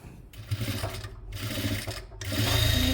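Sewing machine stitching a zipper onto a cloth pouch, a steady close mechanical whir with rapid needle chatter that pauses briefly and then runs again louder.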